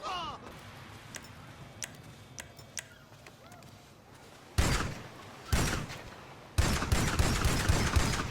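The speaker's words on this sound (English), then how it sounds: "So I shot 3 people in front of a hospital." Gunfire in an action video game: sparse faint pops, then three loud bursts of shots, the last a sustained fusillade, with a voice heard in the scene.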